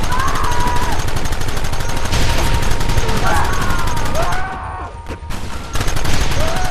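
Bursts of rapid gunfire in the Western game Red Dead Redemption, loud sustained volleys with shouted voices over the shooting and a brief lull before the firing resumes.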